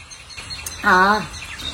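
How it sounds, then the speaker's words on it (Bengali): A single bird call rises briefly and clearly over faint background ambience, a short warbling note heard nearby. "পাখির ডাক কি ভালো লাগছে"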